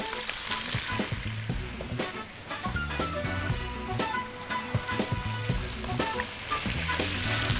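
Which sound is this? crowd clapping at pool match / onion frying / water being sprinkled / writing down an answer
onion frying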